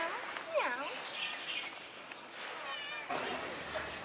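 A street cat meows in two rising-and-falling calls, one near the start and one toward the end, over steady outdoor background noise with people talking nearby.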